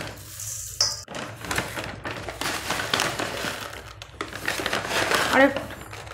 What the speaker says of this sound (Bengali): এক বাটি মতো ঝুড়ি ভাজা দিয়ে দেবো।